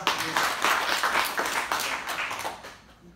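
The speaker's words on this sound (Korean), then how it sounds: "박수 한번 드리겠습니다." Audience clapping at a presentation on a creator content platform, a lively round of many hands applauding steadily before tapering off toward the end.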